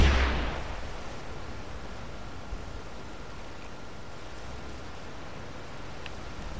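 A single rifle shot from the hunting video game Hunting Simulator on PS4 cracks loudly at the very start, then trails off into a long, quiet rustling outdoor ambience.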